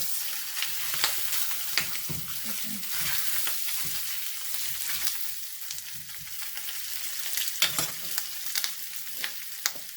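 Meat fries crisp in a hot pan, a dense steady sizzle with sharp spits and crackles scattered throughout, close and continuous with no talking.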